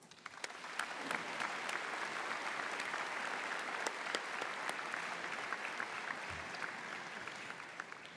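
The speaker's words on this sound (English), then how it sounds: "Graduates, would you please join me in a round of applause for the MRU faculty and staff" Graduates applaud faculty and staff at a university convocation ceremony, a sustained wash of crowd clapping heard from a distance, steady and fairly faint for the whole stretch.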